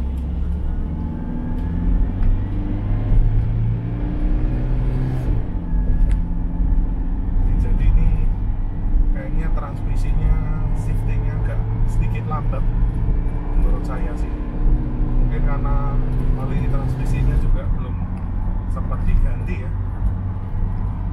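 A 2012 Toyota Innova V diesel automatic accelerating from standstill in a 0-100 test, with a steady engine drone rising through the run while someone talks over it from inside the cabin.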